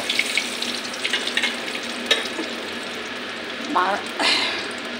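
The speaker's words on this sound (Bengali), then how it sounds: "দেখো আমার ইলিশ মাছের মাথাটা ভাজা হয়ে গেছে" A hilsa fish head frying in a pan gives a continuous crackling sizzle, with brief scrapes and a voice talking over it.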